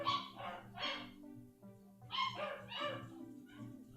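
Ghost dogs in a video game bark in several short bursts, a pair of yaps, a pause, then more barks, over a steady tonal game background hum.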